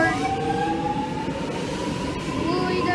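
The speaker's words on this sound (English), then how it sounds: "Train is now departing." A suburban train pulls away from a station platform, giving a steady, close rumble with sustained tonal whines from the motors and carriages, rising slightly as it departs. No one speaks.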